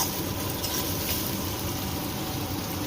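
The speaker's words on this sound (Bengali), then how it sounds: "এবার কড়াইতে পেঁয়াজ লাল লাল করে পেঁয়াজ ভেজে নেব" Onions frying in a wok, browning until reddish, make a dense, steady sizzle and bubbling hiss that stays constant and close for a few seconds with no talking.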